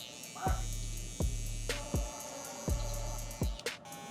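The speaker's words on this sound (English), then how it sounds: "And just barely tap it with the trimmer so you don't make a line." An electric hair trimmer buzzes in short repeated bursts during a low taper mullet haircut, close and fairly steady with brief clicks between passes.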